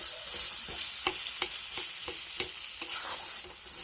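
Fish and vegetables frying in a pan with a steady crackling sizzle, broken by several sharp scraping knocks as a spoon stirs them; close and fairly quiet, with no voices.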